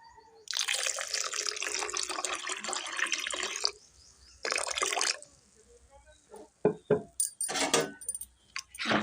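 Water poured into a kadai on a gas stove while making manda pitha dough. A steady rushing pour lasts about three seconds, then a shorter gush, followed by several brief splashes and clinks.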